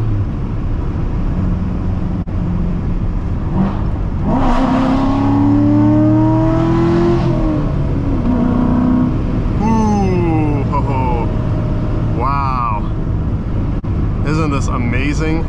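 A 2016 Chevrolet Corvette Stingray with a seven-speed manual revs in a tunnel, its engine note rising and falling in several sweeping pulls over a constant loud roar.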